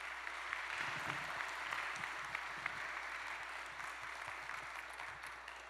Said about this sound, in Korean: 큰 박수로 한번 우리 원장님 모시겠습니다